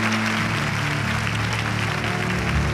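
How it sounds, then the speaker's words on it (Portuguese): Congregation in a church service applauding together, a dense, steady wash of clapping filling the whole clip with a low tonal hum underneath. "Você pode aplaudir a Ele por isso."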